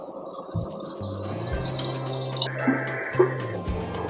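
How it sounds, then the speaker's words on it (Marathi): Water pours steadily into a bowl close by, a splashing stream with a faint rising tone as it fills. "पाणी घालून घेते."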